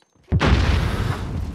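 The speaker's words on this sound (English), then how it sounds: "Grenade out!" Grenade explosion in Call of Duty Modern Warfare multiplayer, a single loud, close boom that hits suddenly after a brief silence and rolls on with a heavy, rumbling decay.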